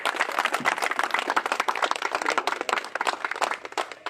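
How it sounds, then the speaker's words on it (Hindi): A crowd at a rural progressive farmers' gathering in Rewari claps hard, sharp, crisp hand claps piling into lively applause that surges and dips before thinning near the end. "जोरदार तालियां बजाएं, जोरदार तालियां"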